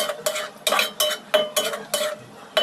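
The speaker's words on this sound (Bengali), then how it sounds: "কলিজাগুলো মশলার সঙ্গে ভালো করে নেড়েচেড়ে কিছুক্ষণ কষিয়ে নিব।" Beef liver pieces stirred through spice masala in a pan, a utensil scraping in seven or eight rhythmic strokes with metallic clinks, close and clear with no talking.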